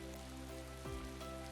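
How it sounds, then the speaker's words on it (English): Rain falling in a visual novel video game, a steady soft hiss of drops on surfaces with a faint low swoosh partway through, quiet and continuous with no voices. "it starts to rain for real."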